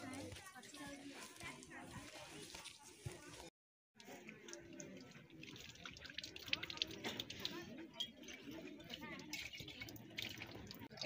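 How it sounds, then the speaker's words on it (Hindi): Water runs steadily from an outdoor tap into a container near a tree, a continuous splashing rush with a brief break partway through, while voices, including a child's, talk nearby. "पानी भर रहे।"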